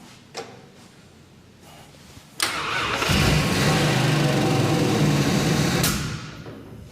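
The engine of a Fury with a carburetor turns over and catches, roars steadily for about three seconds, then dies away. It is loud and close, with no talking.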